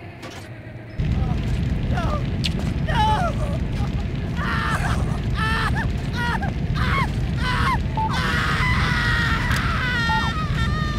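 Screaming in the video game Hitman: Blood Money, with repeated high, wavering cries over loud, dense game noise that persists after a brief quiet start.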